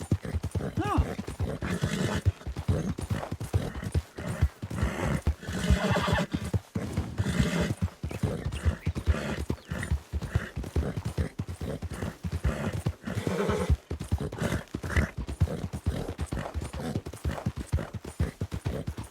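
An angry horse in a Western ranch roleplay video game whinnies repeatedly while its hooves clop steadily, near and prominent, with a person talking faintly at times.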